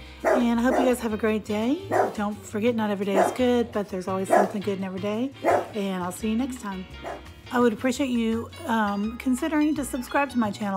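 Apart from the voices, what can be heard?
dog barking at someone walking by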